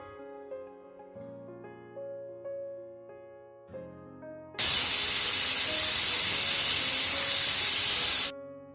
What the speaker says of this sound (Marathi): मीडियम फ्लेमवर फक्त तीन शिट्ट्या करून घ्या